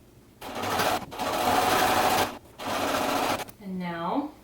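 A sewing machine stitches a minky blanket closed in three quick bursts of close, rapid whirring with brief pauses between them, followed by a short voiced sound at the end.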